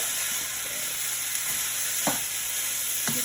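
Fried rice with soy sauce sizzles steadily in a pan while a utensil stirs it, with a few soft scrapes and knocks over the constant hiss and no talking.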